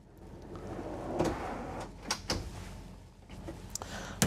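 Full pull-out drawers with dovetail joints in a 2023 Newmar Mountain Aire 4551 motorhome slide and thud shut, several sharp knocks and clicks over a quiet sliding rumble, close and fairly soft.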